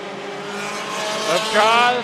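Race cars roaring around Stockton 99 Speedway, a loud sustained engine scream that swells as cars pass close, with rising whining pitch and a commentator talking over it.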